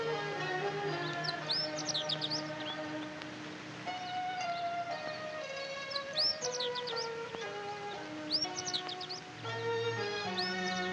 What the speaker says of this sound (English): Those birds are singing to each other.